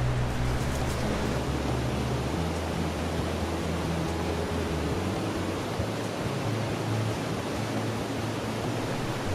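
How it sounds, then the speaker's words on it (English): Flowing water of the Beaver River creek along the Superior Hiking Trail, a steady broadband rush of moving water filling the scene continuously with no speech, fairly close and even in level throughout. "You come around a corner, you can start to hear the water before you see it."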